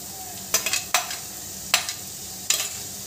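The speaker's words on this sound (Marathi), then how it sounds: "तर पॅन मध्ये थोडासा तेल गरम करून घेतलंय। आता त्यात कांदा" Onion drops into a pan of hot oil for a potato vada filling, giving a few sharp sizzling bursts as it's stirred over a low steady frying hiss.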